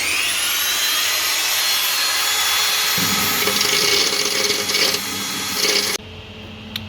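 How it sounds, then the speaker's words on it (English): A needle sanding tool grinds steadily on the inside of a Mk2 Escort's inner wheel arch, a loud, continuous rasping whir that shifts in pitch partway through and cuts off sharply near the end, with a brief spoken phrase over it. "we'll use the needle sanding thingy"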